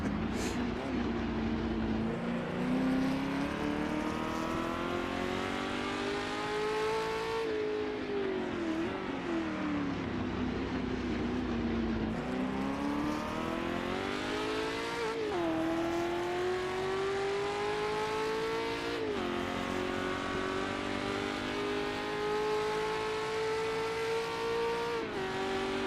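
Historic race car in Assetto Corsa during a Le Mans endurance race, engine droning loud and steady through gear changes, pitch climbing and falling as it downshifts without throttle blips, continuous for the whole stretch.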